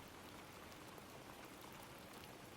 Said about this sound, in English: I really like the sounds of rain, as is evident by the stream right now